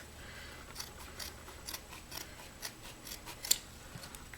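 Scissors snip through a stack of wet wipes, cutting them in half with a series of soft, quick, close-up clicks and crisp cuts at an irregular pace in a quiet room.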